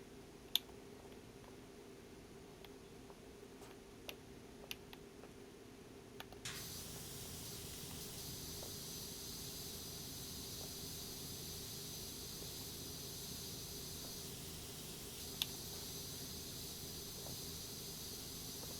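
Pressure washer spraying a Ferris wheel in the video game Power Wash Simulator, a continuous broad hiss that starts partway in and keeps going steadily, with a few faint clicks.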